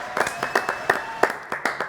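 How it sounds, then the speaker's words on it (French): An audience on a French TV show gives a studio guest scattered applause: a handful of distinct, sharp handclaps in an irregular rhythm, fairly close, with a faint steady tone beneath. "Applaudissements donc pour Thomas."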